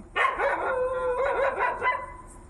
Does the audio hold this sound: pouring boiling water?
no